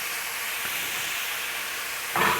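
Taiwanese braised pork caramelizing in a hot pan gives off a steady, even sizzling hiss that swells louder near the end.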